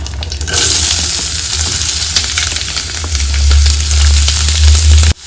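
Curry leaves, slit green chilli and onion sizzling in hot oil, a loud, close crackling fry with stirring scrapes that swells toward the end and stops abruptly.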